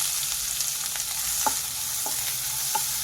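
Finely chopped onion sautéing in a pan with whole spices such as cardamom and bay leaf: a steady close hiss with a few light scraping stirs, no talking.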